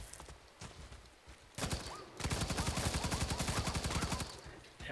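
Rapid automatic gunfire from a player's weapon in the sci-fi shooter Firefall, loud bursts of rhythmic shots starting midway and continuing steadily to the end.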